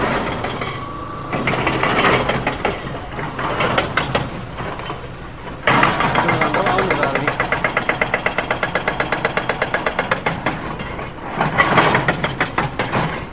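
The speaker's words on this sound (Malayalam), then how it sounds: "റോക്ക് ഉപയോഗിച്ച് പൊട്ടിച്ച് മാറ്റുന്ന ഒരു കാഴ്ച നമ്മൾ കണ്ടുകൊണ്ടിരിക്കുന്നത്" A rock breaker's rapid mechanical hammering pounds on in a steady rhythm at an NH66 road construction site in Malappuram, loud and close, with engine rumble beneath and a pause before the pounding resumes.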